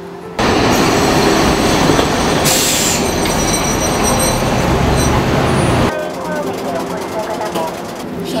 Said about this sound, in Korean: 얼른 열차가 왔으면 좋겠다.